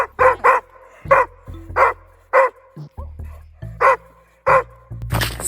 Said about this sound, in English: before my dog rudely interrupted